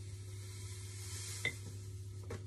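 Dr. Beckmann power-foaming toilet cleaner fizzes and sizzles in red wine vinegar, a soft steady hiss over a low hum with a couple of brief clinks.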